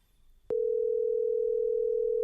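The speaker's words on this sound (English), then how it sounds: "we're gonna try to make a phone call" A telephone dial tone starts abruptly after a click and holds as a loud, steady, unbroken hum while a call is being placed.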